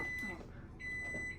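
A steady electronic beep, mistaken for an apartment fire alarm, sounds in two short stretches alongside faint indoor noise.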